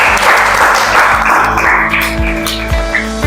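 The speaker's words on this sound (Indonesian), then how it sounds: "kita beri tepuk tangan untuk Ayu." Audience applause in a classroom teaching session, a steady wash of clapping that fills the whole stretch fairly loudly, with no talk over it.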